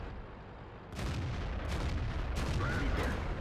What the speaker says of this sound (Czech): Ještě jednu ránu dal.